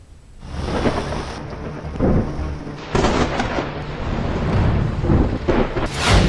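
Heavy monsoon rain in Madhya Pradesh, loud and steady, with deep rolls of thunder rising and falling throughout and no voices.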